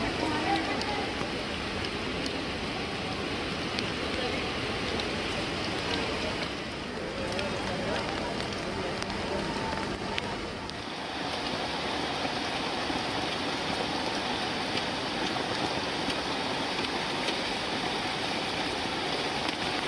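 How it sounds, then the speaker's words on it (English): Heavy rain and floodwater in flooded Mumbai, India, giving a steady broadband wash of rushing water and downpour that continues unbroken from start to finish, with a short dip partway through. "Another city flooded after days of heavy rain."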